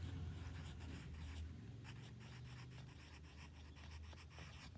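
A pencil writing an answer in a third-grade maths workbook, steady close scratching strokes in a quiet room with low background hum.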